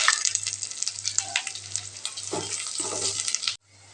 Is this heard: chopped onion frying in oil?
yes